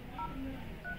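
Short electronic keypad tones sound as a code is entered on a OnePlus Nord smartphone, three or four brief beeps at different pitches over a low hum, faint and close.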